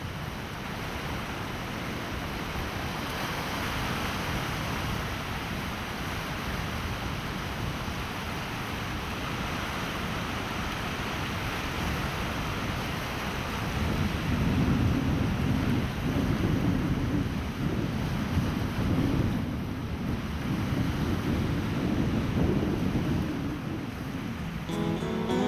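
Rough surf pounding Piha Beach in New Zealand, a steady, dense roar of breaking waves mixed with wind buffeting the microphone, swelling louder midway with no voices.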